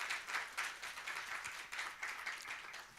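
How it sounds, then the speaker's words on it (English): An audience applauds panelists at the close of a World Health Summit regional meeting session, a soft, fairly distant patter of many hands clapping steadily with mild swells, no voices over it. "give one more big round of applause for all of the"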